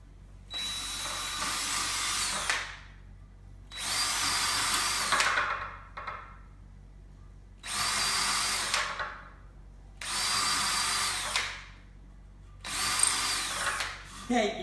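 A power drill bores holes into wood for a homemade flash dryer stand, running in five loud, steady whirring bursts of about two seconds each, separated by short pauses.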